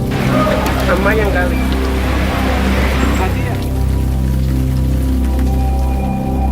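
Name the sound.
rain falling on the island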